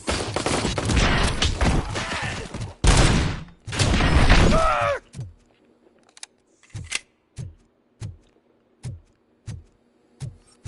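Gunfire in the RoboCop: Rogue City video game on PS5, heavy dense bursts of shots at first, followed by a regular series of single sharp reports spaced about a second apart.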